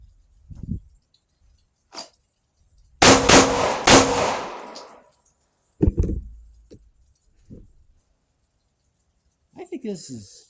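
Smith & Wesson M&P 2.0 pistol fired during a two-chest, one-head shooting drill, a tight burst of loud close shots followed by scattered fainter clanks and a few brief noises in a cold outdoor setting.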